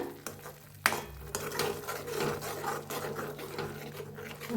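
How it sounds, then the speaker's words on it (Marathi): Masala mixed with curd roasts in a pan for a corn dish, a steady scraping stir and low sizzle running throughout, close and fairly quiet, with one sharp knock near the start. "जे आपण दही बनवून घेतलं होतं ते बी सगळं मिक्स करूया ह्याच्यात आता छान भाजूया दोन्ही मिळून"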